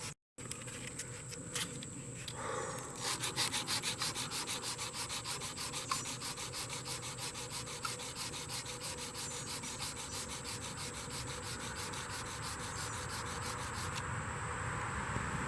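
Steady abrasive rubbing of a Trizact belt against a steel knife blade as scratches are sanded out, a continuous close, even grinding hiss with a faint high whine running throughout.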